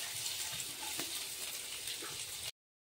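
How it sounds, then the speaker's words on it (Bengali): Chopped onion hitting hot oil in a wok, a steady broadband sizzle and crackle that holds at an even level for about two and a half seconds before cutting off abruptly. "তেল গরম হয়ে গেল, তাতে আমি পেঁয়াজ কুচি দিয়ে দিচ্ছি"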